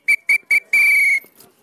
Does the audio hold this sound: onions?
no